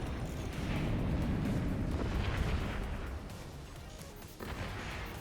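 Weapons firing in the Forts strategy game, with fort structures taking hits and burning: repeated heavy booms and crashing impacts rolling into one another, loud and sustained, with a sharper burst near the end and no talk.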